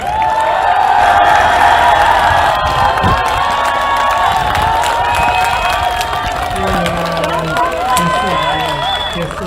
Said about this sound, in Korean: 여러분 더 큰 박수 부탁드립니다